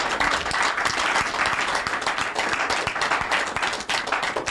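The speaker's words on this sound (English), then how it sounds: "A round of applause." A studio audience at a radio and TV talk programme gives a loud, dense round of applause that carries on steadily from start to finish, with no talk over it.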